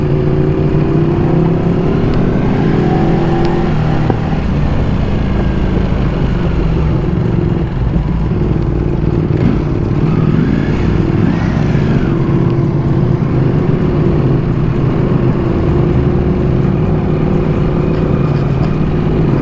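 A loud motorcycle engine roars steadily and close up, with a deep bass rumble and a constant drone that never fades.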